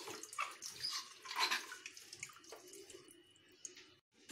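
Water runs from a tank tap over an aquarium filter being rinsed, splashing and gurgling close by in uneven surges before the flow briefly cuts out near the end.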